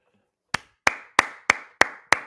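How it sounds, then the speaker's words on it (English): Six crisp hand claps ring out at an even, brisk pace, close and clear against near silence, during a Cubs versus Dodgers baseball watch-party livestream. "Oh, clapping."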